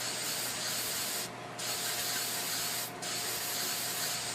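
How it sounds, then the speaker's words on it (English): Spray paint hisses steadily onto miniature tree foliage for a model train layout, a close continuous spray that breaks off twice for a moment. "spray it on all around on just the foliage"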